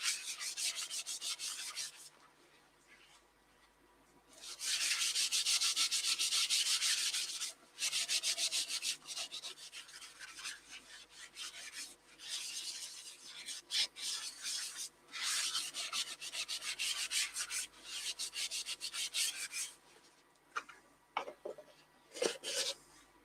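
Yorkshire grit rubbed by hand onto a wooden vase held on a stationary lathe makes a close, gritty scratching rub. It comes in long bursts separated by short pauses, with a few light knocks near the end.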